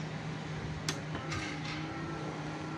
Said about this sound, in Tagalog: Subukan nating pakinggan yung motorized ng fuel pump kung gumagana na.